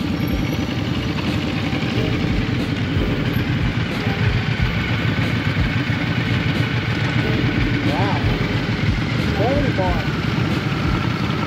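Motorcycles roll in at a Poona cars and coffee car meet, engines idling and burbling nearby in a continuous low rumble, with a couple of short rising revs and people talking over the engine noise.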